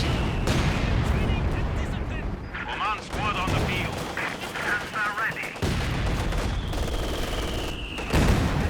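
Rocket artillery barrage in Company of Heroes 2, a steady roar of rapid explosions and firing throughout, with a commentator talking over the battle noise.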